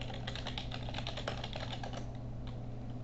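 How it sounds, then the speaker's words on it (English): Fingers tapping quickly on a computer keyboard, a close, quiet run of rapid clicks that thins out near the end over faint room hum. "We'll type in"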